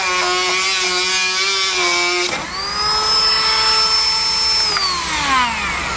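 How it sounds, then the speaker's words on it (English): A Dremel rotary tool trims plastic during a Curt trailer hitch receiver install on a 2016 vehicle, giving a steady, close, high-pitched whine whose pitch dips and shifts as it cuts, with no talking. "I'm going to be using a Dremel tool to get that trimmed off."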